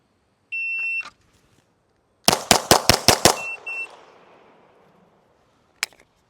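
A shot timer beeps once, then an Archon Type B pistol fires six quick, loud shots in a tight string that echoes away, followed by one faint beep near the end.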